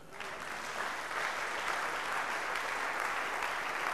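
A church congregation bursts into sustained, dense applause to acclaim the Lord, loud and steady for several seconds with no voices over it.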